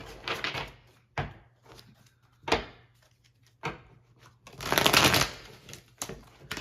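Tarot cards being shuffled by hand in several separate bursts of riffling and flicking, close and moderately loud, with short quiet gaps between them and no talking.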